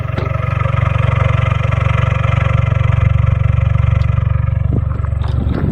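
A Volkswagen MK6 GLI with a cold air intake idles steadily up close, a loud even rumble with a smooth, settled rhythm throughout.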